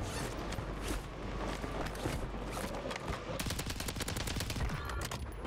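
Gunfire in Call of Duty Warzone on Rebirth Island, a dense run of rapid automatic shots and bursts, loud and close, with layered battle noise and brief talk underneath.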